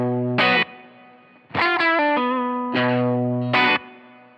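Electric guitar chords through a Line 6 HX Stomp or Helix preset ring out in separate strummed bursts, with sustained notes and a big, lingering reverb tail between strums.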